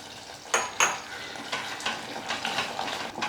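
A spoon stirs mushroom gravy with coconut milk in a pan, making scraping and clinking strokes against the metal, a couple of louder clacks, then a steady rhythm of softer stirs over a faint sizzle.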